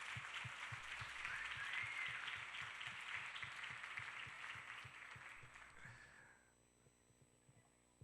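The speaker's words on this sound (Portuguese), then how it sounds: "Uma salva de palmas, Deus" Church congregation claps together in a long, even burst of applause that holds steady for several seconds, then fades out, leaving a faint room hum.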